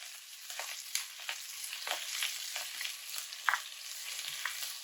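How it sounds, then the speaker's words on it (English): Spinach leaves fry in oil in a pan, a quiet, steady sizzle and crackle with scattered pops and the occasional soft stir, close by and alone without talk. "I added a little more oil to the pan, and now we're going to add the spinach leaves."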